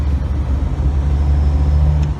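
A 2001 or 2002 Honda Civic with a 4-cylinder engine and 5-speed manual is driven, its engine droning in a steady low hum from inside the cabin, loud and constant throughout.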